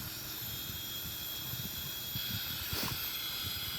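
A Boeing 777-300ER right-wing jet engine starts up in a flight simulator, heard as a steady broadband whine and hiss with low rumbling that swells briefly near the end.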